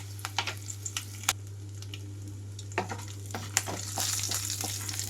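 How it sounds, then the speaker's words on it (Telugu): Tempering seeds and dried red chillies crackle in hot oil over a low flame, giving scattered sharp pops and spits across a steady low hum, fairly quiet and close. "ఆయిల్ అంతా హీట్ అయిన తర్వాత తాలింపు గింజలు అలాగే ఎండుమిరపకాయలు వేస్తున్నాను"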